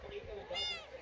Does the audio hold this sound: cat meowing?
yes